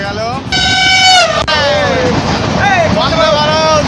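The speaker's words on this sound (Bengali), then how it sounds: "এদিকে একটা প্যাসেঞ্জার ট্রেন চলে গেল" A passenger train goes by near a highway, sounding loud, sustained horn toots close by, with the rumble of the passing train underneath.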